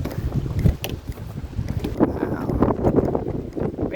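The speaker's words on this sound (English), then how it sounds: "the wind's really picked up out there" Strong wind blows across Ross Lake and a suspension bridge in the Pasayten Wilderness, a continuous loud roar and rumble against the microphone with gusty swells throughout.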